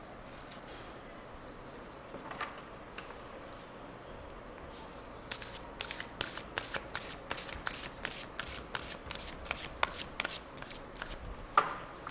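Tarot cards being shuffled by hand, quiet rustling at first, then a rapid run of crisp riffling snaps and slaps, close and fairly soft, with no talking.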